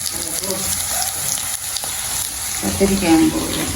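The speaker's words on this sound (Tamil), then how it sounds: "கருவேப்பிலை போடுறேன்" Curry leaves hit hot oil in a frying pan, bursting into a loud crackling sizzle that swells near the end, heard close up with faint background voices.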